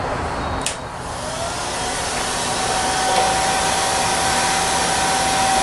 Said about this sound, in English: You got your hair dryer.